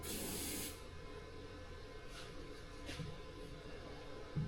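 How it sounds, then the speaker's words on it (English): A brief burst of aerosol oil spray into an engine's spark plug holes hisses for under a second, followed by quiet rustling and faint handling noises. "I'm gonna spray some oil down in the"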